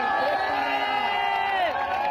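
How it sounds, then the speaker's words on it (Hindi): Crowd at an outdoor trophy ceremony after a Darbhanga versus Purnia tournament final, cheering and whooping steadily at close range with a dense, sustained roar of voices throughout. "जोरदार ताली होनी चाहिए पूरी टीम के लिए।"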